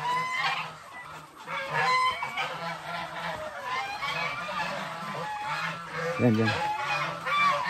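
Geese honk loudly and repeatedly close by at a goose nesting area, with overlapping calls and cackles and a brief spoken word mixed in.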